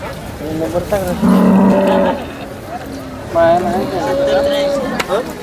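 A cow moos twice in long, drawn-out calls, close by, with people talking around it at a cattle market in Sangola.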